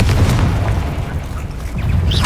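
A Confringo spell explodes in Hogwarts Legacy with a loud, deep booming blast. The low rumble carries on through the clip, and a faint second burst comes near the end.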